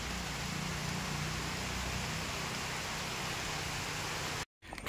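Steady rain falls in a Konkan village, a loud, continuous hiss without a break until a brief dropout near the end.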